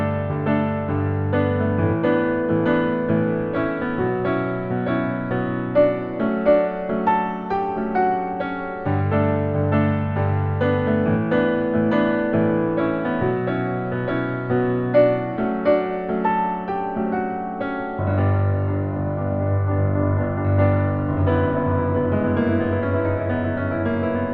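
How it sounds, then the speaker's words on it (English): Piano playing the second half of the instrumental bridge from a song, a steady flowing passage of sustained chords and a moving melody over deep bass notes, continuous and close, with no talking. "now for the second half of the instrumental bridge, which sounds like this."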